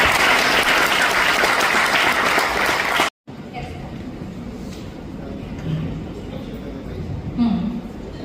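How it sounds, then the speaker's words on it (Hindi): A room of trainees at a personality development and grooming session claps loudly and densely, then the sound cuts off abruptly midway; afterward only quiet room noise and faint murmuring remain. "एक बार तालियां आप सबके लिए।"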